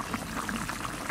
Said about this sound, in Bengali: এবার জল দিয়ে দিই, একটু বেশি করে জল দেবো, মাছটা ভালো সেদ্ধ হবে তার জন্য।